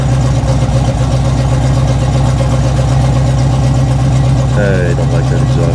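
A 1984 Chevy K20 pickup truck engine idles with a steady low rumble throughout. A voice speaks briefly near the end.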